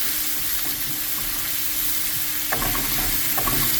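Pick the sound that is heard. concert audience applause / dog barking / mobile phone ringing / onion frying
onion frying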